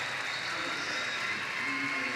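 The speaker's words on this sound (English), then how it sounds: "There's a turn at 250 metres to the applause of the crowd." Spectators applaud steadily in a big indoor aquatics venue during a London 2012 Paralympic swimming race, a diffuse, fairly distant wash of clapping that holds evenly throughout.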